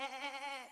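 From the Messi emote in Fortnite comes a single short, clear goat bleat with a wavering, harmonic tone, close and alone, lasting under a second.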